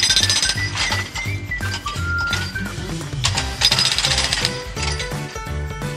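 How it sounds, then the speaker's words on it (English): Hydraulic breaker mounted on a digger hammering a concrete footpath, heard as a rapid run of clinking, tapping impacts with metallic ringing under a steady loud bed of sound and tonal accompaniment, no talk. "The digger uses the breaker to hammer into the concrete footpath."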